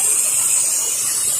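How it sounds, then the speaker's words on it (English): Pressure washer with an M5 downstream nozzle rinsing washed brick on a hot day: a steady, close, high hiss of spraying water, unbroken and even throughout. "Just doing a little rinse here on this brick after it's been washed"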